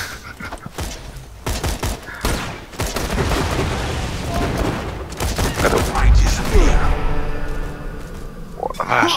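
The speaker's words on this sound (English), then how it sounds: "Ça font mal ces grenades" Gunfire and grenade blasts in the video game Borderlands 2 during a co-op fight, dense bursts of shots and booms running almost without pause, with a loud heavy blast near the end.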